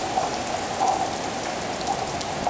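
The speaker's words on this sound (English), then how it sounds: "Yeah, some serious rain." Heavy rain pours down outdoors, a dense, steady hiss of falling water with scattered louder drops, continuous and fairly close.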